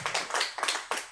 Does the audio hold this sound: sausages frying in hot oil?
no